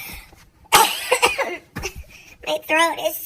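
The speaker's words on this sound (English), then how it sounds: "I can't stop coughing." A person coughs in several short, harsh bursts close by, with a bit of throat noise between them.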